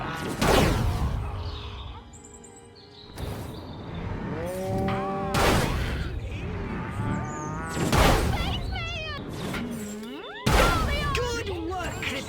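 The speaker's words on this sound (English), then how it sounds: "Clearly they've genetically altered these pathetic gas bags and turned them into radioactive exploding zombie cows!" Radioactive exploding zombie cows in the Destroy All Humans video game let out several drawn-out, wavering moos between sharp bursts of explosive gunfire-like blasts, loud and repeated across the scene amid game noise.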